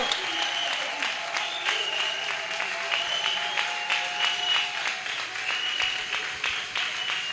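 A church congregation applauding and acclaiming during a worship service, steady mid-distance clapping that carries through the whole stretch with no speech over it.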